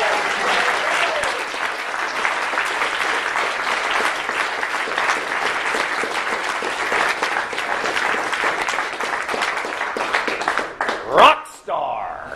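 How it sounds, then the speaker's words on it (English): An audience greets a speaker at a recruiting and sponsoring seminar with loud, sustained applause and cheering that fill the room for about eleven seconds before the noise drops away. "Give a big hand for Todd Falcone."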